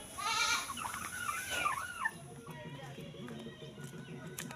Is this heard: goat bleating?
yes